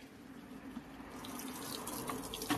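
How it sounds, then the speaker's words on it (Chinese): A washing machine, just repaired with a new water level sensor and set to its lowest water level, refills with water as a steady, soft rushing hiss, faint and continuous with a few light splashes. "水量放到最低，开机，重新进水，给它试机"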